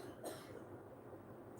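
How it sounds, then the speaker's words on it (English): One faint, short cough from a person in a home kitchen with two front stove burners on, set against quiet background hum. "sometimes people just cough"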